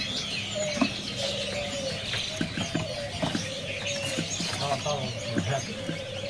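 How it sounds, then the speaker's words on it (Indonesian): Birds chirp and call repeatedly at a bird seller's shop where a blue teledekan is shown, short bright notes and cooing mixed with other birds, with someone talking quietly under the chatter. "Ini ada burung teledekan biru ya."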